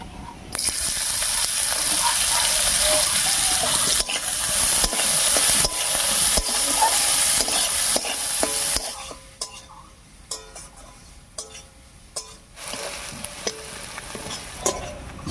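Chopped onion dropped into hot oil already tempered with cumin, garam masala, bay leaf and a pinch of asafoetida, frying with a loud, steady sizzle and stirring for about nine seconds, then softer crackle broken by sharp spatula scrapes and clicks.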